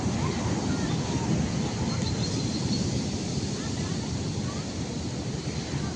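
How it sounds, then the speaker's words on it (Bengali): Sea waves roll onto the beach at Puri, a continuous low roar of surf mixed with wind buffeting the microphone, steady and fairly loud for the whole stretch. "সমুদ্রটা দেখো কেমন লাগছে।"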